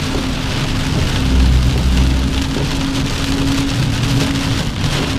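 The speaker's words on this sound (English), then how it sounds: "Rain like this, man, every day it rains like this now." Heavy rain falling steadily outdoors, a dense continuous hiss of drops on surfaces with a low rumbling undertone, loud and close throughout.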